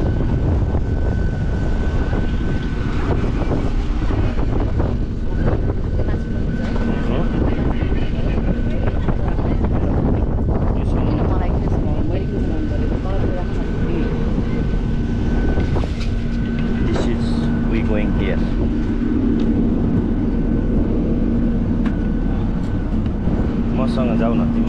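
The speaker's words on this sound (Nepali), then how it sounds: "बसबाट उत्रेर प्लेनतर्फ जाँदैछौँ" Steady engine roar and wind noise on an airfield apron while walking from a bus toward a parked airplane, a constant loud rumble throughout with people talking nearby.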